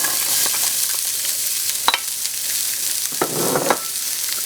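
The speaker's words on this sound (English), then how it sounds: "Let's start off with a hot pan and some olive oil" Carrots fry in olive oil in a moderately hot pan, giving a steady soft sizzle broken by a few sharper crackles and stirring clicks.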